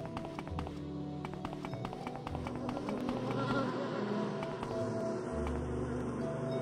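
Insects buzz in the video game Skyrim Home of the Nords, a faint, steady droning hum with light ticking taps over quiet outdoor ambience, no talk.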